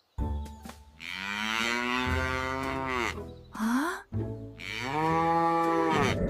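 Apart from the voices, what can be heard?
cow mooing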